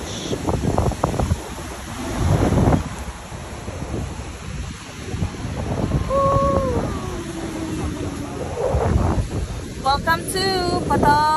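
Wind buffets the microphone in a steady roar over surf rolling onto the white-sand shore of Patar Beach, with a few faint tonal whistles partway through.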